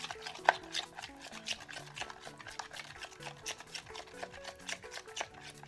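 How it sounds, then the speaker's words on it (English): A homemade hair protein treatment is stirred together in a bowl, quiet wet mixing and soft scraping with a gentle, irregular rhythm under faint background music. "we're just gonna go in and just mix everything together"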